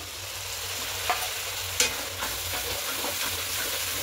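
Paste of ground cashew, melon seeds and poppy seeds sizzles steadily in a pan for a matar paneer gravy, with a couple of sharp utensil scrapes as it is stirred.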